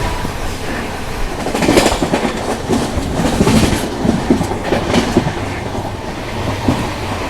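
The Jaipur Delhi Double Decker Express rolls along the rails with a steady rumbling roar and a rhythmic clickety-clack of wheels over joints, heard close from on board with no voices.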